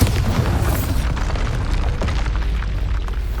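A Bombarda spell blast in Hogwarts Legacy bursts into a heavy, rumbling boom that stays loud and dense through the whole stretch, with deep low-end weight and no voices.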